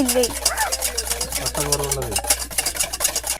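A mixture stirred in a deep cooking vessel, with a short run of scraping, clinking stirring strokes heard up close beneath overlapping talk.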